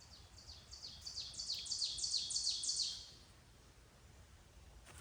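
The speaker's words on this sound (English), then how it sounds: "That bird. Beautiful, isn't it?" A small bird sings close by outdoors, a quick run of bright repeated chirping notes lasting a few seconds before fading to a quiet background.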